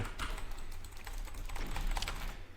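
Loud computer keyboard typing picked up by a close microphone during a Doom speedrun, rapid irregular key clicks and clacks over a low steady hum, with no speech.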